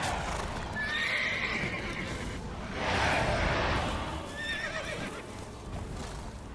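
Roach the horse gallops in The Witcher 3: Blood and Wine through fog, with close, loud hoofbeats driving throughout and whinnies rising above the rhythm.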